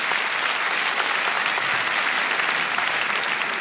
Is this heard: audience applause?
yes